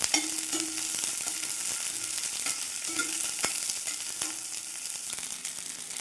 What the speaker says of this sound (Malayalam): ഇതിലേക്ക് നമുക്ക് ചെറിയ ഉള്ളി ചേർത്ത് കൊടുക്കാം. നന്നായിട്ട് വഴറ്റിയെടുക്കണം